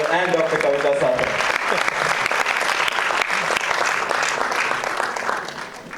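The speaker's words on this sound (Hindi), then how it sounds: "जोरदार तालियां doctor Ashish Sagar and doctor Kavita Sagar." Loud, dense applause from a large awards-show audience fills the whole stretch, steady and sustained before easing slightly at the end, with a few voices mixed into the crowd noise.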